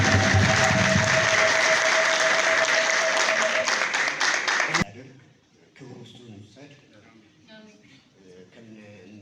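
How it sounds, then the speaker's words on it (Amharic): An audience at a gathering claps loudly and steadily for about five seconds, and the applause then cuts off abruptly. Quieter talk and scattered sounds follow. "በዚህ አጋጣሚ ከፍ ያለ ጭብጨባ ሳታቋርጡ ለወንድማችን አዶናይ ከፍ ያለ ጭብጨባ እናመሰግናለን"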